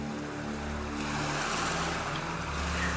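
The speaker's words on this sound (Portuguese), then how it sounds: "vocês percebem estar em volta de um grande mar brilhante que reflete a luz da lua e das estrelas" Sea waves at night on a wide open sea in an audio story, a steady close-up wash of surf and rushing water with a low rumble underneath and no voices.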